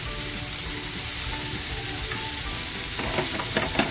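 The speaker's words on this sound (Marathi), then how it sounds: "एक बाजूने भाजून घ्यायचं आहे जास्त शिजवायचं नाही भाजून घ्यायचं आहे" Chicken frying on one side in a pan gives a loud, close, continuous sizzle with some stirring and scraping near the end, and no one speaks.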